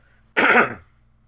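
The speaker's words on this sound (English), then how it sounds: "I'm going to cough." A single short, throaty cough, close and clear, in an otherwise quiet room.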